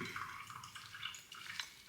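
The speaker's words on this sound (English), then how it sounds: "Might have just put too much water in there" Water poured into a jar of apple and blueberry overnight oats, a steady close splashing trickle that runs for the whole two seconds with no talk over it.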